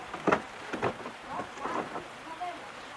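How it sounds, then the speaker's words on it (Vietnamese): Heavy rain pours steadily over a remote village where workers carry bricks by hand across rough ground, a dense hiss with a few louder rushing bursts and a faint rumble beneath. "trời vẫn đang mưa to nhưng mà mọi người chưa nghỉ"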